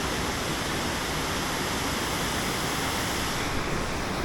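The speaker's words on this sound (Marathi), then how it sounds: "इकडे देखील धबधबा आहे, धबधब्याला पाणी पण भरपूर आहे" A steady, dense roar of rushing water from a full rainy-season waterfall at Dhootpapeshwar Temple, loud and unbroken throughout.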